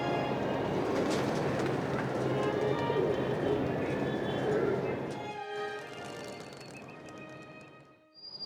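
A flock of pigeons takes off from a rooftop loft in a Cairo neighborhood, a dense rush of fluttering wings over several seconds that thins and fades into quieter surroundings with faint city noise.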